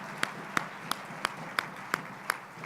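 A church audience claps in slow, even single beats, roughly three per second, close and crisp against a faint room background, no talk.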